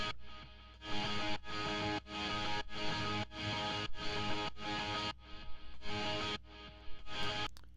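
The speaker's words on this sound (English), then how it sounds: "we've introduced this kind of rhythm guitar consistent thing going throughout the drop" Rhythm guitar in a Top 40 pop drop, a steady distorted chugging part that cuts out in short gaps with the beat, loud and close in the mix with no talking.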